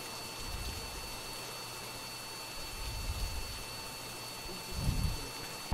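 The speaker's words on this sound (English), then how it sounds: "Whoa, I heard thunder." Low rumbling thunder in the Phasmophobia ghost-hunting game rolls in three soft swells over a steady hiss of rain, the last swell slightly louder, with no talk.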